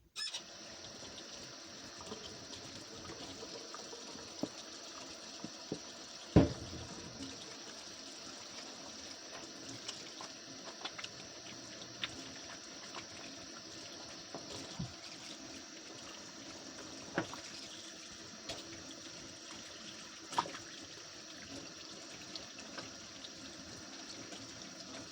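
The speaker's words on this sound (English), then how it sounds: "Wash my hands." Tap water runs steadily from a kitchen faucet while hands are washed during meatloaf preparation, a faint continuous hiss with small clinks and splashes scattered through it.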